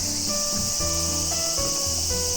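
Cicadas sing outdoors where okonomiyaki is being eaten, a dense, steady high-pitched buzzing drone that fills the whole stretch without pause, with faint tonal sounds and low rumbles beneath it and no talking.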